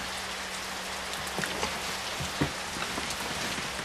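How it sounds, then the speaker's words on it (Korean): Heavy rain falls steadily in a dense, even wash of sound with scattered louder drops, heard alone with no voices. "비가 참말로 억수로 오네."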